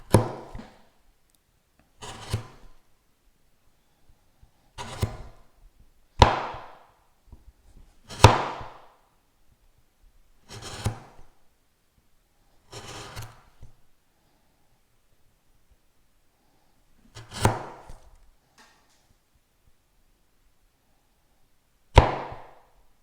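A hand gouge carves a cove into wood in short, separate scraping cuts, about a dozen slicing strokes with quiet pauses between them, close and dry-sounding.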